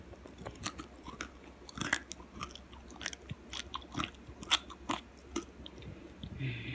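Close, repeated crunchy bites into roasted chicken skin and chewing, with crisp snapping transients spaced irregularly over quiet background, no talking.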